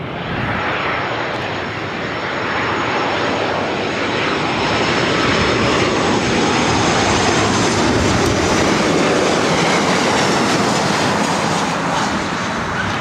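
Southwest Airlines Boeing 737-800 jet arriving at LAX from Reno, a loud, steady broadband engine roar close by that swells slightly and holds throughout, with no voices.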